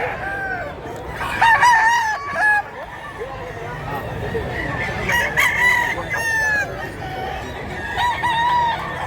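Roosters crow repeatedly at a gamefowl sale in Mantalungon, Cebu, some near and some farther off, with clucking chickens and background chatter from people.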